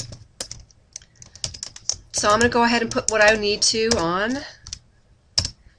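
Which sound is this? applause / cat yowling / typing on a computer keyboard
typing on a computer keyboard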